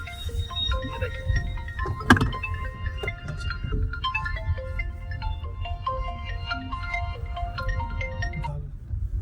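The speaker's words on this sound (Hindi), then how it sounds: "किसका फोन बजेगा?" A phone ringtone plays a repeating electronic melody at moderate volume, with a brief knock or bump partway through.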